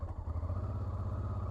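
A cold Honda TransAlp 650 motorcycle engine runs with a steady low, throbbing rumble and faint mechanical clatter, sustained close by with no talking.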